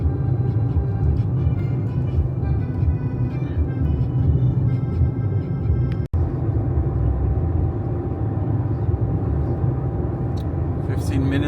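A car rolling slowly along a road in Paraguay, a steady low engine and tyre rumble heard from inside, continuous and fairly loud with a brief dropout midway.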